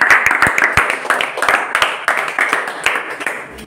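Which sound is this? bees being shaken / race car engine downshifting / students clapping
students clapping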